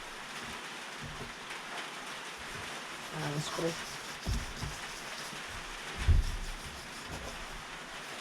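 Steady rain hisses across a surface throughout while a boat engine is cleaned, with a few louder knocks and thumps nearby and a person speaking briefly over it.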